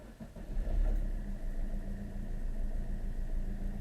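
A 2014 Maruti Suzuki Ritz VDi diesel car idles at about 800 rpm, a steady, close, low engine rumble with an even diesel clatter.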